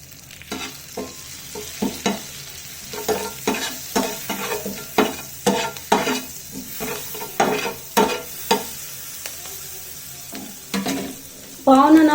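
Pav buns roast on a hot tawa with butter, pav bhaji masala, salt and fresh coriander, giving a steady close sizzle broken by repeated scraping and stirring strokes of a spatula, with a louder burst of frying at the end.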